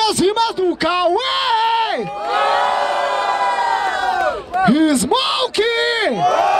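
A rap battle crowd at an outdoor freestyle event in Barueri, São Paulo, cheers for a rapper's rhymes with loud sustained shouting and whooping, interrupted by a host's shouted voice.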